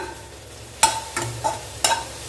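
Ingredients being stir-fried in a pan to drive off moisture, a low background sizzle broken by three sharp scraping strokes of a spoon, close and fairly quiet.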